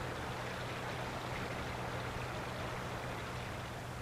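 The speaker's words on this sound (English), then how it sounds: "Creating the sound that is perhaps the one most favored by our ears, water brings to mind scenes of rural pleasures." Steady flowing water in downtown Dayton makes a continuous, even rushing wash with no breaks, moderately close and heard alone without any voices.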